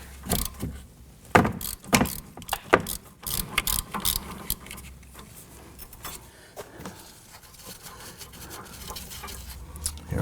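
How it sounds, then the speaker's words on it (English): A wrench clicks and ratchets on the nut of a Nissan Murano front sway bar link, with irregular metallic jangles, taps and clanks close by, loud bursts between quieter stretches. "And put my wrench on there."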